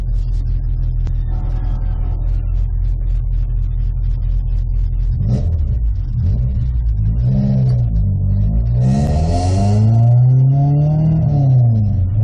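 A car with a Honda B20 VTEC engine idles with a steady deep rumble, then revs several times, the pitch sweeping up and down loudly and close by.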